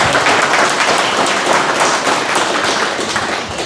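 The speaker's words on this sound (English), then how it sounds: "round of applause," An audience at a sheep farming talk breaks into a round of applause, dense steady clapping close and loud throughout, easing slightly at the end.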